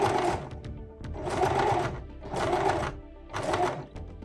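A sewing machine stitches through a wig net in four bursts of steady, close mechanical whirring, each about a second long and separated by short pauses.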